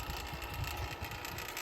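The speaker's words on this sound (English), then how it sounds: "We're doing a vacuum. It's removing all the non-condensables and humidity in the system. That's that little machine you're hearing." A small vacuum pump evacuating a split downflow air conditioning system runs with a steady, buzzing mechanical drone, moderately loud and continuous, with no speech.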